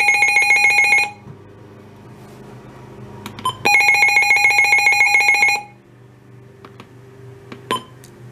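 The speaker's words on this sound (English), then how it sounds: "Alert test." Midland WR-400 weather radio sounding its alert test tone: a loud, steady multi-pitched electronic alarm in two long bursts of about a second and two seconds, separated by quieter clicks and handling noise.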